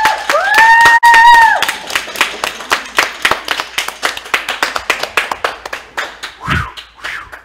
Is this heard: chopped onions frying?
no